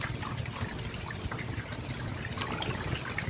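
Lukewarm water trickles and splashes steadily while a child is bathed, a soft continuous pouring sound close by with no talking.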